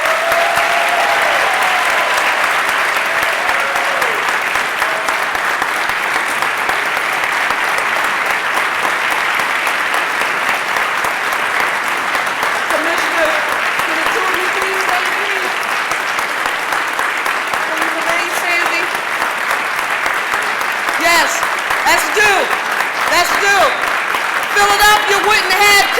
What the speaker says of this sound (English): I want to right now ask you to give me a resounding round of applause